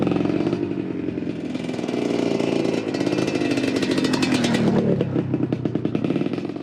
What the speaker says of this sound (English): I'm going to run it over with the back of the bike and see what happens